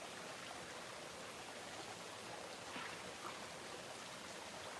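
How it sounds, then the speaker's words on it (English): Rain falls in a Costa Rica jungle, a steady, dense hiss of drops spread evenly throughout, soft and continuous with no voices. "I'm not sure if this is going to be a big rain or a little rain."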